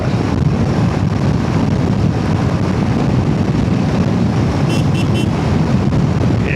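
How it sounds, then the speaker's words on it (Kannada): Strong wind roars steadily across the microphone during a motorcycle ride on a highway, a loud, unbroken rumble with no voices. "ಒಳ್ಳೆ ಗಾಳಿ ಬೀಸ್ತಾ ಇದೆ ಮಾತ್ರ"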